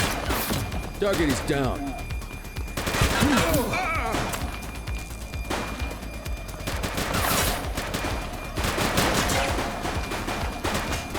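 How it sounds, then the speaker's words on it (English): Gunfire in the police game The Precinct, a close, loud fusillade of repeated shots and impacts, with voices shouting over the exchange. "He's shooting!"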